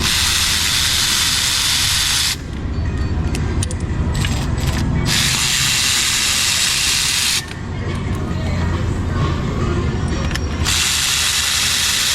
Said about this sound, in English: You go to power tools, get these plugs out of here the rest of the way.